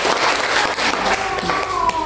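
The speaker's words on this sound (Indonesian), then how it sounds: "tepuk tangan dong buat Tuhan kita" A church congregation applauding at a worship service, steady clapping filling the room for about two seconds, mixed with some voices.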